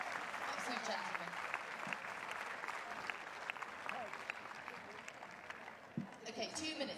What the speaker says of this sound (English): I'll give a round of applause as he leaves the court.